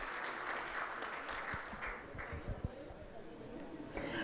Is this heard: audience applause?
yes